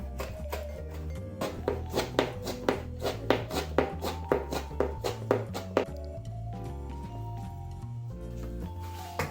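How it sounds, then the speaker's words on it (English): A knife chops squeezed cooked spinach on a board in a quick, even series of taps that lasts about six seconds and then stops, heard close and fairly soft over background music. "So I'm just cutting them up into smaller sized pieces."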